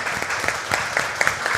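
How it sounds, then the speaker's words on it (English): A sparse round of applause at a virtual casino night charity event, a handful of light, uneven claps from a small group close by, with no voices over them. "let's hear a round of applause for this awesome group"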